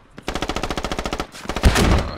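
Video-game machine gun firing a rapid burst of about fifteen evenly spaced shots at close range, followed by a heavier blast and rumbling roar.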